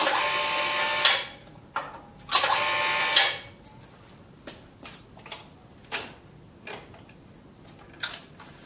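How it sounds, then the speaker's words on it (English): A sheet metal rounding machine forming an eccentric reducer runs in two short, loud whirring spells, then leaves a series of sharp clicks and knocks spaced irregularly, close by and without speech. "we go to the rounding machine"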